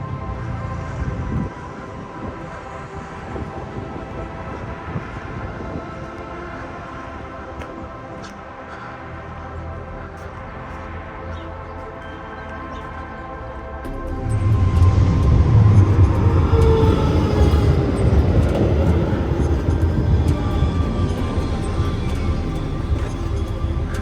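A Warsaw tram on route 36 rumbling past nearby, the steady street hum rising sharply into a loud, close roar midway that holds through to the end.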